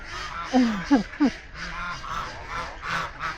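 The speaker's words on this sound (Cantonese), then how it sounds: "呢班鴨啊，我都係講啊。" Three quick honking quacks from nearby waterfowl, followed by softer calls and murmuring voices in the background.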